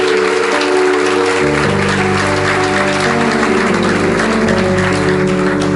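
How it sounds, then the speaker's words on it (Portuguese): Congregation clapping during a church healing and deliverance service, steady loud applause throughout with sustained organ or keyboard chords underneath. "Dê um aplauso ao Senhor Jesus por isso."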